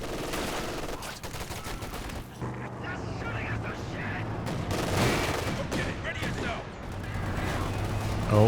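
Heavy .50 cal machine gun fire in Company of Heroes 2, sustained rattling bursts mixed with explosions and battle noise under a commentator's talk.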